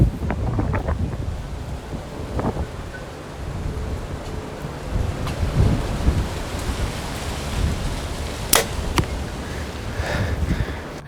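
Gusty outdoor wind buffets the microphone in uneven rumbling surges, loud and close throughout, with a few sharp knocks and clicks scattered within.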